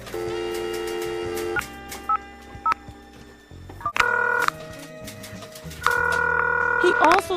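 Telephone dialing effect during a storybook reading: bursts of bright tones and beeps, some long and steady, some short, with a musical backing underneath, loud and close.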